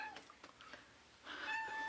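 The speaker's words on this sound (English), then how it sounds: "I know you hear one of the cats." A cat gives a faint meow near the end of a quiet stretch, preceded by soft scattered clicks and rustles.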